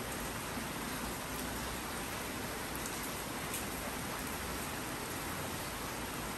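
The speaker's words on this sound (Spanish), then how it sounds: "vean qué rico la lluvia el día de hoy" Steady rain falling outdoors in Costa Rica, a constant even hiss of drops that stays at the same level throughout, with no voices.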